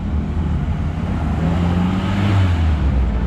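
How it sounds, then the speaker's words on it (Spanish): An old car rolls along a Havana street with a low, rumbling engine drone and a faint rising whine, against broad traffic noise. It gets slightly louder near the end, as if approaching close by. "Ahí viene este carro."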